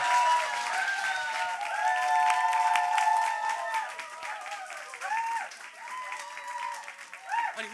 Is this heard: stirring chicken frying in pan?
no